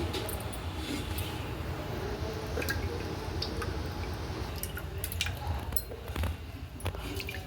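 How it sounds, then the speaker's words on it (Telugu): Hands squeeze water out of a rava and flour mixture for palm fruit bread, giving a steady, close run of wet squishing and dripping with no one speaking. "శుభ్రంగా వాటర్ లేకుండా గట్టిగా పిండుకోవాలండి"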